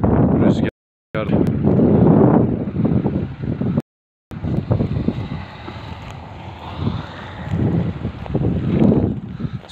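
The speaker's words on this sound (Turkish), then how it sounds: "Rüzgar." Strong wind buffets the microphone in a constant low roar over a village clover field, with brief dropouts and a faint voice under the gusts.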